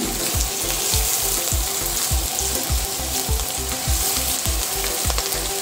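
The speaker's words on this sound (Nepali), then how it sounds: "यो गाजरलाई 1 मिनेट जति भुटिसकेपछि" Carrots and onion fry loudly in a pan for a rice dish, with a steady close sizzle and rhythmic scraping pulses from continuous stirring.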